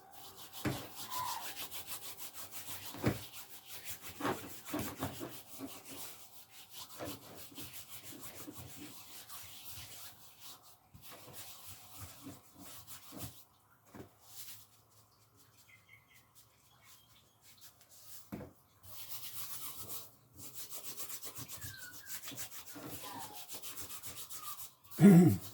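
Hands rubbing salt into the skin of a pork belly, a soft dry scrubbing and scraping that comes in irregular strokes at close range, with quieter pauses in the middle and no talk.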